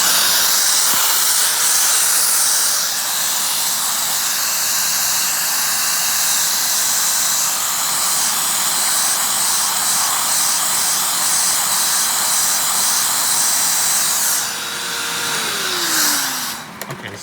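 A Hoover Windtunnel Anniversary self-propelled upright vacuum, Maytag swapped and resealed, runs loud and close with a steady roaring hiss, its tone dropping as it spins down near the end.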